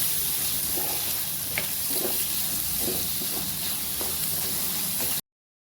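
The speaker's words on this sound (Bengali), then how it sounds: "চিকেনটা ফ্রাই করার ওই প্যানে আমি দিয়ে দিচ্ছি পেঁয়াজ" Roughly a cup of onions fries in the same pan just used for chicken, stirred until soft: a close, even sizzle with soft stirring scrapes, which then cuts off abruptly.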